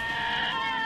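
A sheep in a video game gives a single sustained bleat, close and clear.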